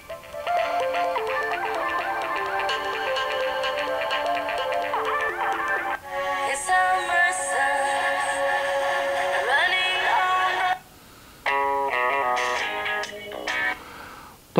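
Music playing at maximum volume through the built-in speaker of a Sony Xperia Z phone. The sound is bright and thin with little low end, runs continuously, and breaks off in brief gaps near the end.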